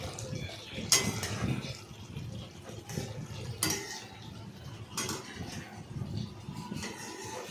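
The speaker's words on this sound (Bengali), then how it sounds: "জল দিয়ে সেটাকে ভালো করে নাড়াচাড়া করলাম।" A spoon stirring soybean curry in a pot just after water is added, with soft scraping and a few sharp metallic clinks against the pot at intervals.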